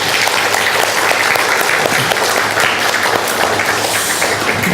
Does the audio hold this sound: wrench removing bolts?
no